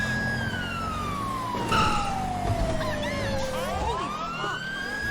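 Police car siren in GTA 5 wails loud and continuous, a falling tone sweeping down then rising again, with engine and traffic noise underneath.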